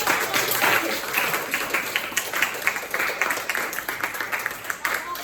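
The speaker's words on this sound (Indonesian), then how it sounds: "Iya, tepuk tangan dong." Students in a computer accounting class clapping together, a brisk rattling burst of applause that gradually thins and softens over several seconds, heard from within the room.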